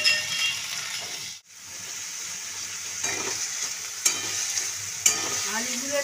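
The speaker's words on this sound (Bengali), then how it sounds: "আমি আলুগুলো ভেজে নিচ্ছি।" Potatoes frying in hot oil in a wok, a steady close sizzle broken by stirring scrapes and a few metallic clinks, with one brief dip near the start.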